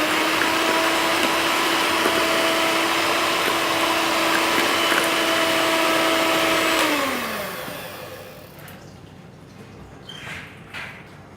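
An electric mixer whirs loudly and steadily through cupcake batter with vanilla essence, then winds down and stops, leaving faint clinks and scraping in the bowl.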